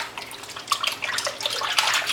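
A baby boy splashes his hands in bathwater while being bathed, quick irregular sloshes and drips close by with no talking.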